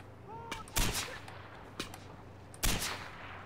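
Sniper gunfire in Far Cry 4, with two loud booming shots about two seconds apart and a fainter crack between them, all over a steady low game hum.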